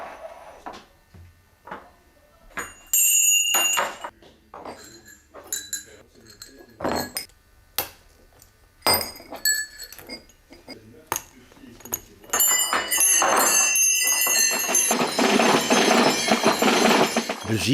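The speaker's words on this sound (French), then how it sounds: "Et on vient ajouter les cloches à la dernière semaine, cloches qui sont récurées." Brass bells of a Binche Gille's apertintaille belt, freshly scoured and graded from large in the centre to small at the edges, give scattered clinks and chimes that swell into a dense, continuous jingle near the end.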